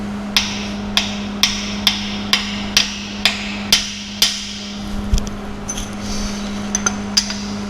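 A hammer taps out a steady run of about nine sharp, evenly spaced metallic strikes on a Ford F100 triangulated four-link suspension, followed by a few lighter, scattered knocks over a constant low hum.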